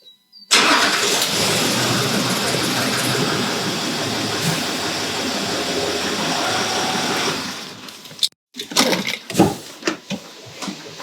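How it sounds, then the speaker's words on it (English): A diesel Land Rover Discovery 4 (LR4) engine cranks and catches, then settles into a loud, steady idle for several seconds before cutting off, followed by a few scattered knocks and handling noises. "now I'm trying to start up the engine and see what happens."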